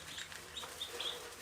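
Meat bird chicks gather at a long feeder on a homestead, their high, thin peeps and chirps overlapping in a steady, busy chorus at close range.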